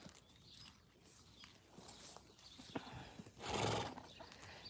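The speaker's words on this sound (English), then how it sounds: "We're just bringing the horses out." Horses being led out on a farm, with a neigh rising near the end over scattered hoof clip-clops on the ground and light outdoor background noise, no talking.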